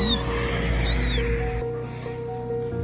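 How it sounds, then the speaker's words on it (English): A small cat cries in rising and falling mewing calls, fairly close and insistent, over a steady low background hum. "heard a tiny kitten crying for help"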